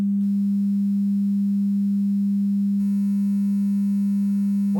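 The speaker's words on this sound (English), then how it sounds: "you can pretty clearly now start to hear some distortion now that we're down at 7 bits" A steady, loud pure sine tone reduced to 7-bit depth holds throughout, with a faint gritty buzz of digital distortion layered over it; no voices.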